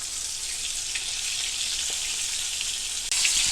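Chicken for a Cajun sauce picante fries in a pan, giving a steady close hiss and sizzle with small pops that grows slightly louder near the end, with no speech.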